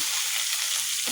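Chicken liver adobo sizzles steadily in a hot pan, a continuous bright frying hiss throughout with no voices.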